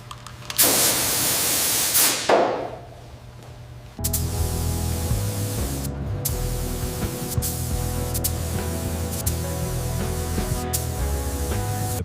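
A spray gun hisses out a burst of gray primer onto the bare metal of an 80-year-old Chevrolet Bel Air under full restoration, a loud, close blast lasting about two seconds, followed by a dense, steady background.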